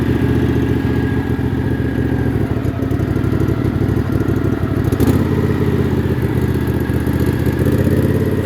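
Engine of the Snow Panda, a small tracked snow vehicle, running steadily while driving, a loud, continuous mid-pitched clattering drone that holds evenly throughout with no voices.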